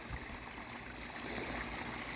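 Water from a backyard pond waterfall fitted with LED lighting trickles and splashes in a soft, continuous flow, faint and heard close with no talk.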